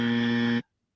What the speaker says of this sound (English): I love the buzzer.